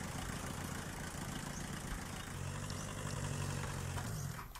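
A car engine idles steadily in the driving survival game The Long Drive, a continuous low rumble with a faint mechanical knock, heard alone and fairly loud throughout.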